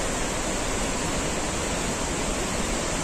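Langkuik Tinggi waterfall in West Sumatra roars as a constant, dense wash of falling water, loud and unbroken with no other sounds.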